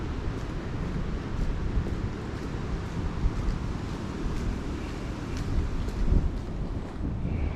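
Steady wind buffets the microphone with a constant low roar and rumble, unbroken and fairly loud throughout.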